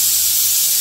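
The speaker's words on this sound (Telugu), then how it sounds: "ఇదండి ఆయిల్ అయితే హీట్ అయింది, ఇప్పుడైతే ఆలు అయితే వేసుకున్నాము కొంచెం" Potato pieces for aloo 65 fry in hot oil, giving a loud, steady close-up sizzle with a bright hissing texture and no pauses or voices.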